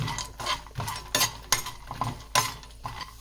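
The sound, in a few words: makhana (fox nuts) frying on medium flame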